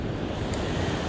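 Ocean waves break and roll on the shallow shore of Long Bay at an ebbing tide. A continuous loud wash of surf mixes with wind buffeting the microphone.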